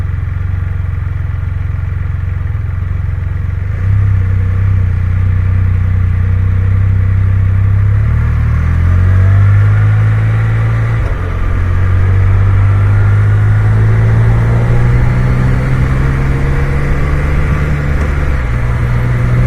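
A trike's engine runs steadily under way with a loud low drone, its pitch stepping up and dropping at gear shifts through the ride, with no talking.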